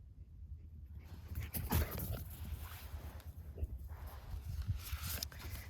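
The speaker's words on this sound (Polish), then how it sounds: "To mój pies, to mój pies." A dog whimpers and whines softly in a few short bursts, close by, with some rustling and movement in the background.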